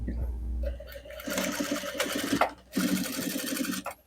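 A sewing machine stitches in two rapid bursts of close, rhythmic mechanical clatter separated by a short pause, with faint handling noises around them.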